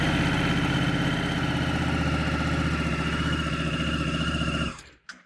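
A Honda Africa Twin CRF1100 motorcycle engine idles steadily and loudly up close with a regular throbbing pulse, then cuts off near the end.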